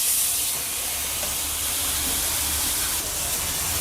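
Tomatoes sizzle and fry in a hot pan while cooking tomato rice, a steady broadband hiss of spattering oil running close and fairly loud throughout with no talking.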